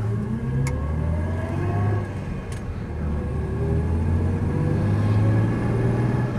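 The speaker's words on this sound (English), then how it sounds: "let's take this rather super 1966 S-Type for a spin" A 1966 Jaguar S-Type pulls away, its engine holding a steady low rumble that rises gently as the car gets under way, heard from close by inside the car.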